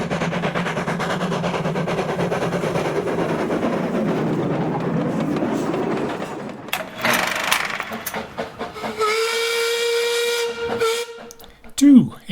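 Steam locomotive at Hollycombe railway, first a long steady hiss of escaping steam with chuffing underneath, then a loud sustained multi-tone whistle blast near the end, sounding close and strong.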